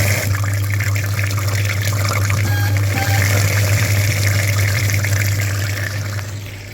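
Water flushes steadily through the radiator of a VW Touareg, a loud continuous rushing flow close by with a constant low pump hum that fades near the end.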